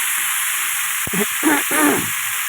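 Potato and eggplant sautéing in a wok give a loud, steady sizzling hiss throughout, broken midway by a few short scraping stirs of a spoon against the pan.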